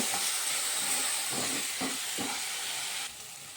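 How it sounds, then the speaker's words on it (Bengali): A paste of ginger, cumin, coriander and green chilli frying in a pan as a steady hiss with a few soft stirring scrapes, close and fairly quiet, easing slightly toward the end without speech. "মশলাগুলো দিয়ে দিলাম এখন মশলাগুলোকে একটু ভেজে নেব"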